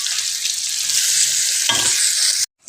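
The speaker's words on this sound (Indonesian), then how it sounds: "Tumis genjer." Genjer (water spinach) stir-fried in a wok gives a loud, steady hiss of sizzling oil with a brief clatter of stirring, cut off abruptly near the end.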